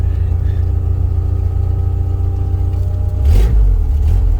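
An LS turbo engine swapped into a Suzuki Cappuccino drones at a steady mid pitch while driving, close and loud, then swells briefly near the end as it revs through the gears.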